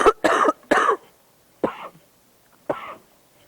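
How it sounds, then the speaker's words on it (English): A person coughs in a short series: three quick harsh coughs close together, then two more spaced apart after pauses, each one close and loud. "Cough."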